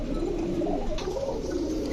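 Pigeons at a dealer's coo in soft, low, rolling calls close by, continuing over a steady background murmur without speech.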